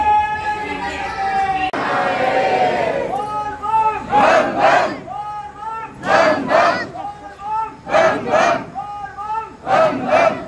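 A packed crowd at the Pura Mahadev temple chants "Bam Bam" in loud, rhythmic bursts that rise and fall repeatedly, many voices shouting together close by.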